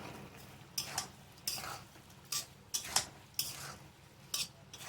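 Fish pieces are stirred into a curry in a pan, with quiet, intermittent scraping clinks of a utensil against the metal over a faint low simmer, and no talking.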